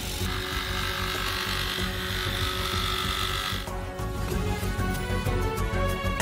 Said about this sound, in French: Et sciez le tuyau avec une scie sauteuse.